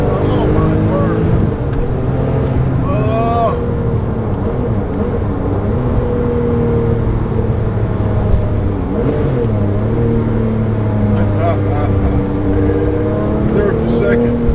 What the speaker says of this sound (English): You can hear the turbos is constantly spooling.